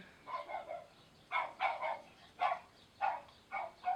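A dog barks outdoors in about six sharp, evenly spaced bursts, heard from a short distance at moderate loudness with no voices.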